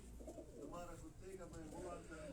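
Pigeon cooing, a racing breed, with a few soft rolling coos in close succession at low level, while someone talks over them.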